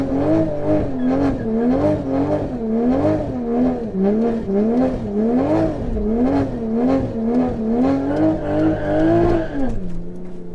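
A Stage 3, 760 hp Toyota Supra held in 1st gear on a drag strip roars loudly and close, its engine note surging and dipping repeatedly as it accelerates, with hints of tire noise.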